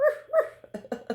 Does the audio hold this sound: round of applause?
no